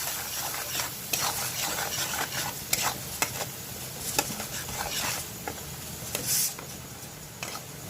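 Spoonfuls of masala being stirred while it roasts in a pan for a tangy karela (bitter gourd) sabzi, with soft scraping strokes over a low sizzle, close and moderately loud, with occasional sharper clinks against the metal.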